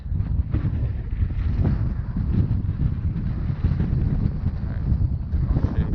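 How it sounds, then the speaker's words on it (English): A strong gust of wind buffets the microphone while paddleboard fishing on a Minnesota lake, a steady low roar with rushing turbulence lasting throughout, with no voices. "Comes a gust of wind that's gonna try to freaking tip the paddleboard over."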